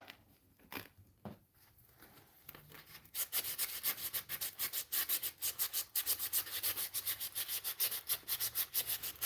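Wooden spoons being sanded by hand, close and fairly loud: a few scattered scrapes at first, then a fast, even run of rough back-and-forth rubbing strokes with no talk over it.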